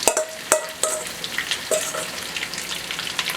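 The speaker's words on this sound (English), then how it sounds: "I'm adding my chicken" Chicken pieces coated in baking soda frying in hot oil in a pan, a steady close sizzle with a few sharp crackles and pops near the start.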